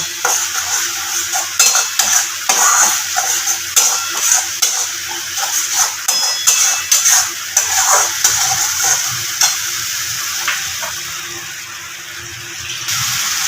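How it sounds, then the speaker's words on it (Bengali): Masala spice paste for a shol fish curry is stir-fried in a pan, a steady sizzle broken by repeated scraping strokes of a spatula against the metal, close and alone. "এবার খুব ভালোভাবে মশলাটাকে কষিয়ে নেব"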